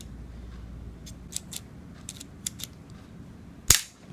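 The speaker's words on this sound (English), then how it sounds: "you just have to push them in real hard to get them to fire out the missiles" Toy missile launchers on a Transformers Generations Jhiaxus figure are pushed to fire, a few quiet plastic clicks followed by one sharp, louder snap as a missile shoots out.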